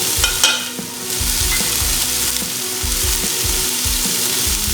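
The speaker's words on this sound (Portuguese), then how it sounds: "Vou jogar alho em pó" Sauce for a carne seca dish frying in a pan while being stirred, a steady close sizzle with scraping spoon strokes throughout, no talk.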